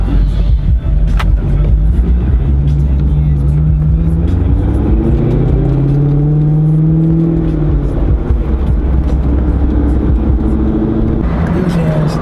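A Chevrolet Corvette C6 Z06 on a road over frozen winter roads, a loud steady engine drone with tyre and wind roar from inside the car, the engine note rising and falling as it drives, with people talking over it.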